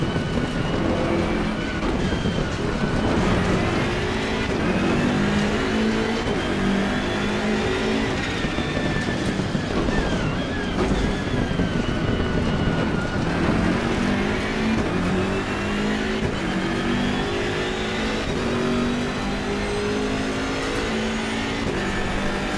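Race car engines in Assetto Corsa Competizione, a BMW M6 GT3 at Mount Panorama, roar continuously and loud, rising and falling through gear changes with overlapping engine tones from nearby cars.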